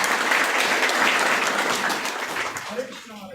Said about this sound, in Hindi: सुझाव मैं देता हूँ कि प्रवचन के बाद तालियां नहीं बजाएं तो अच्छा है